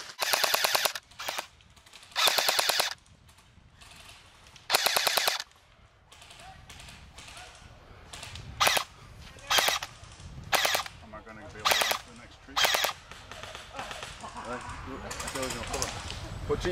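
Airsoft guns fire in repeated bursts during an outdoor airsoft battle, several rapid full-auto strings of sharp cracks in the first half, then shorter bursts later under ongoing talk and background noise.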